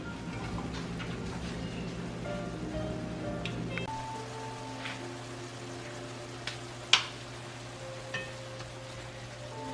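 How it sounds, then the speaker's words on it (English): Ground meat browns with onions and peppers in a pan on an electric range at medium-high heat, giving a steady soft sizzle under a low hum, with a few faint clinks toward the end and no voices. "Currently I'm browning this on kind of a medium-high heat on an electric range"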